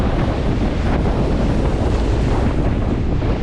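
Loud, roaring wash of surf and spray on a beach with the tide turning, heavy wind buffeting the microphone, constant and close.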